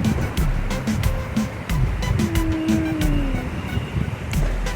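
A rain-swollen stream in Munnar roars close by under a bridge with wind buffeting the microphone, while a faint low tone drifts beneath the continuous flow.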